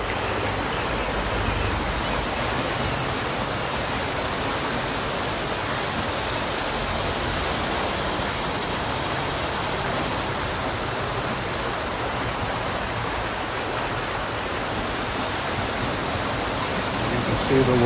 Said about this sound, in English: The creek is flowing extremely well, thanks to the rain we had overnight